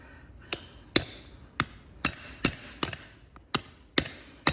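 Cold chisel struck by a hammer to cut horseshoe clinches on a hoof, nine sharp metallic strikes at a steady, unhurried pace, close and distinct, with no talk.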